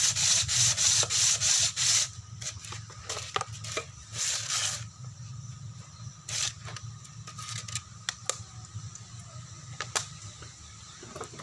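120-grit sandpaper rubs against a Mazda R2 engine block in rhythmic strokes, loud and rapid at first, then slower, intermittent scrapes.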